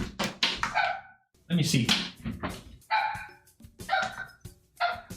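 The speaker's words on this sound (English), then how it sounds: "I think he's just barking at a tree." A dog barks repeatedly at a tree in short bursts with pauses, fairly close, while a person talks briefly between the barks.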